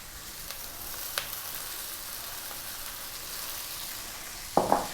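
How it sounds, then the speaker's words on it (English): Cold, day-old cooked basmati rice fries in a pan with a soft, steady sizzle. A couple of faint ticks sound early on, and a sharper stirring clatter comes near the end. "now what we want to do is fry the rice"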